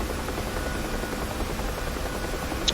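UH-1H Huey helicopter in the DCS flight simulator, a steady continuous rotor and engine drone holding at an even loudness throughout, with no talk.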